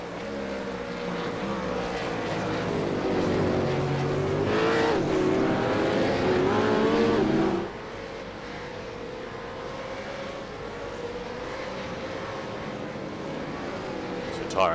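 V8 Supercars racing at Sandown circuit, engines droning loud and steady with a rising tone that drops sharply as one car passes, under continuous commentary.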